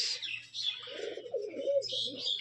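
Rajshahi Giribaz pigeons give soft cooing and chirping calls, close and fairly quiet, in overlapping bursts over a low hum, with no speech.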